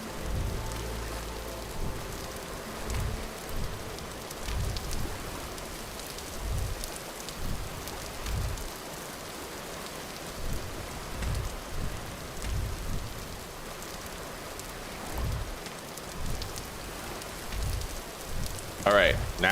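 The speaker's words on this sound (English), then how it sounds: "we have the rain putting our torch out" Steady rain falls in Vintage Story, a continuous hiss of drops on the ground with soft rumbles, lasting throughout while a voice talks over it.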